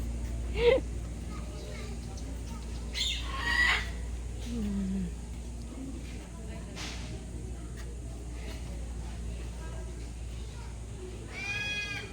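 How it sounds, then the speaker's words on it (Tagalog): Chickens cluck and squawk in short scattered bursts over a low steady hum, with occasional brief bird calls nearby. "Mga ibon."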